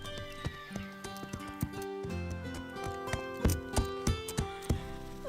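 Hooves of Zoé's new horse clip-clop in a steady, fairly close rhythm, mixed with other sounds and a light musical background.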